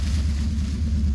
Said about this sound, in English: And our motorcycle's coming back.